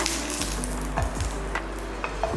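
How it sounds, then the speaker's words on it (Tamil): Cashews and pistachios fry in a pan with a steady close sizzle, broken by a few light scrapes and clinks as they are stirred. "எல்லாமே இதில் நல்லா வறுத்துக்கலாம்"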